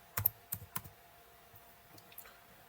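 Keys tapped on a computer keyboard while entering a search command in SolidWorks: a handful of quick, light clicks early on, then a few fainter scattered taps, fairly close with no talking.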